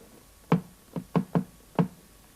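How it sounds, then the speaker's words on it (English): Five knocks at a door in a children's TV sound-effects story, loud and close, in an uneven rhythm with a gap after the first, then a quick group of three and a final rap. "Suddenly, there was a knock at the door."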